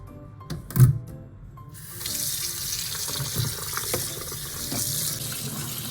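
Running tap water splashes over spinach leaves being washed in a sink, starting with a few handling knocks and then a steady, close rush of flowing water with no talking.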